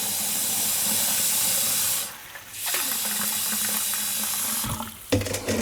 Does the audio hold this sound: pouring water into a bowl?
yes